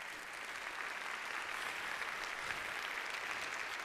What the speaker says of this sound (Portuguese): uma salva de palmas para essa equipa toda